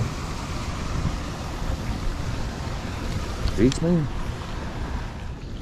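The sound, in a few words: waterfall and moving river water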